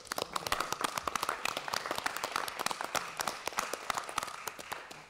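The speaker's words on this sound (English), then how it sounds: "would it be appropriate to offer ex-Chair Corrigan a round of applause for the excellent job that she did?" Round of applause at a board of directors meeting for the outgoing chair, a dense, steady crackle of many hands clapping at moderate distance for several seconds.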